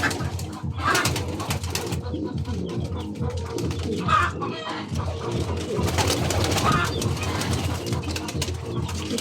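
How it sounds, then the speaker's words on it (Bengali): Rooftop pigeons coo continuously at close range, a dense layered burbling that fills the clip with a few brief rustles, and a voice only faintly in the background. "আমার কাছে অনেক ভালো লাগে এইসব কবুতরগুলা"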